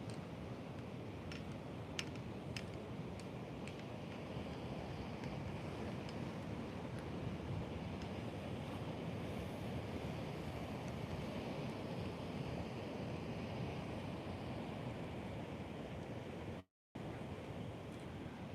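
Steady roar of pre-hurricane swell and surf breaking at Nags Head beach, loud and continuous with heavy wind buffeting the microphone, a few faint clicks near the start and a brief dropout near the end.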